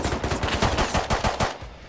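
A rapid burst of automatic gunfire in the video game Rust, loud and close, with evenly spaced shots rattling in quick succession before cutting off.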